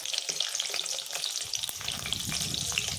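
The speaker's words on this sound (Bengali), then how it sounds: "ছোট ছোট করে আমি বড়াগুলো ভেজে নিচ্ছি" Small fritters fry in hot oil as a steady, close, bubbling sizzle, with scattered sharper crackles and pops throughout.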